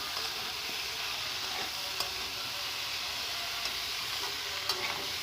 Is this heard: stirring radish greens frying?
yes